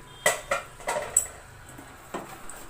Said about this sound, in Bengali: থালায় পড়ার আওয়াজে আপনারা নিশ্চয়ই বুঝতে পেরেছিলেন কতটা কড়কড়ে হয়েছে, খটাস খটাস করে আওয়াজ হচ্ছিল